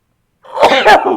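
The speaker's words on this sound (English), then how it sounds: "Now I got to sneeze." A single close, loud sneeze after a moment of silence, a quick double-burst of breath and voice that trails off at the end.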